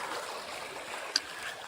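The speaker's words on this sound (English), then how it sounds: "this beautiful little stream where I could actually get some clear flowing water" Clear flowing stream water on a woodland trail, a soft steady trickle and gurgle with one brief splash near the end, close and fairly quiet.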